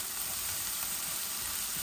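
Fish, including koi, sizzling steadily in hot oil in a pan, a dense continuous frying hiss with no pauses.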